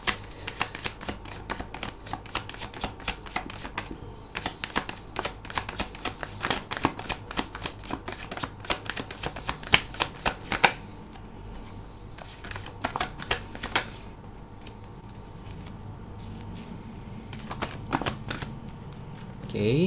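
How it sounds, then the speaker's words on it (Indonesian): Tarot cards are shuffled briskly by hand and drawn from the deck for a reading, dense rapid riffling and flicking up close, easing into softer card handling near the end. "Aku akan ambil 10 kartu dan kita akan juga lihat bottom of the deck-nya ya."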